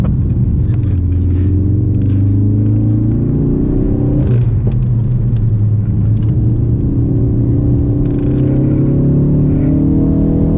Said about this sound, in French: la Ford Focus RS c'est un véhicule traction, donc vous pouvez voir qu'il la met parfaitement en glisse